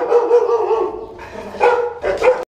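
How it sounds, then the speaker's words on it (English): A dog barks and yips in a few close, loud bursts, the calls slightly whiny and drawn out, in a short run with no talk. "Another dog."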